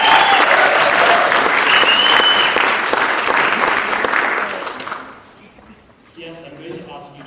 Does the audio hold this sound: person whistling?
no